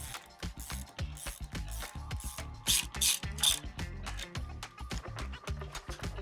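Socket wrench ratcheting crank bolts loose on a Bafang mid-drive eBike, a close, loud run of rapid clicking pawl bursts in uneven rhythm with brief pauses between strokes.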